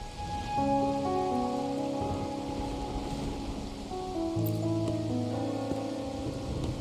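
Steady rain falls in the video game Wuthering Waves, a constant hiss spread beneath a sustained soft musical backing with gentle tones, no voices present.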